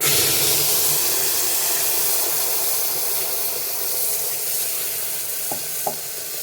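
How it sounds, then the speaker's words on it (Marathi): Ginger, garlic, coriander and tomato paste goes into hot oil for a mutton curry, giving a loud, dense, steady sizzle and hiss with a couple of faint clinks of a stirring spoon near the end. "ही जी आपण आता अद्रक, लसूण, कोथिंबीर, टोमॅटोची जी पेस्ट केलेली आहे ती पेस्ट आपण ह्याच्यामध्ये टाकणार आहोत"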